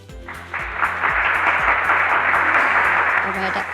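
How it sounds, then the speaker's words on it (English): Applause swells from an audience at an incubator award ceremony, a steady broad clatter of clapping over background music with a low rhythmic beat, building quickly and holding evenly. "with a big round of applause"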